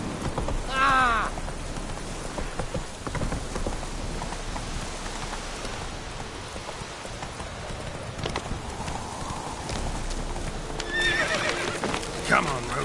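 Roach, a horse in The Witcher 3, whinnies twice amid rain and clip-clopping hooves, with a steady wash of rain throughout and a grunting voice near the start.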